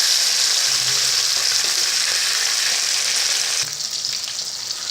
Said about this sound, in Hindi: इसको हम ग्रेवी के लिए फ्राई कर रहे हैं, तो इसको इसलिए ज़्यादा डीप फ्राई हम नहीं करेंगे